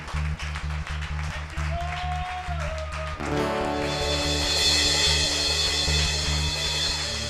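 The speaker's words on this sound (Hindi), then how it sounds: "तालियां बजाकर परमेश्वर को" A church congregation at a Mumbai worship gathering claps along in a steady rhythm over sustained music, the claps moderately loud and continuing throughout, with the backing growing fuller partway through.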